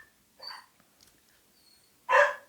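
A dog indoors gives two short barks, a soft one early and a louder, sharper one near the end, separated by near silence in a quiet room.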